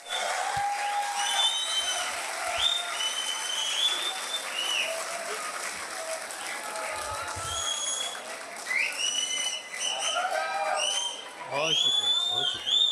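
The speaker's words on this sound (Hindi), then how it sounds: "भरपूर तालियों में इस्तकबाल कीजिए।" Audience applause welcoming a poet at a mushaira in Lahore, steady and moderately loud throughout, with scattered whistles and voices rising above the clapping.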